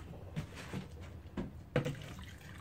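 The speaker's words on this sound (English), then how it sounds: "Now I'm going to squeeze out the water." Wet felted wool pre-felt is squeezed by hand, giving a few short soft splashes and drips of water, quiet and close, with no talking.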